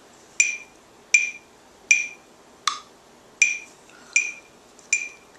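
A metronome app on an iPod Touch ticks seven times at a steady, moderate tempo. Each tick is a crisp, bright click with quiet gaps between, heard alone.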